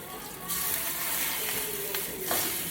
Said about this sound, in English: You're gonna hear a nice sizzle.